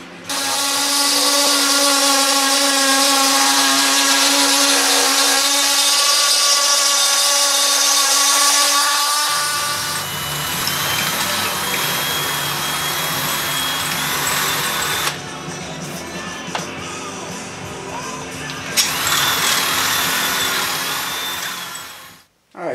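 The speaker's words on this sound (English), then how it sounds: "I like to use a Dremel. Cuts the edges nice and neat." A Dremel rotary tool cuts a coroplast panel with a loud, sustained high whine that shifts pitch as the blade bites into the plastic, running nearly continuously for over twenty seconds before cutting off.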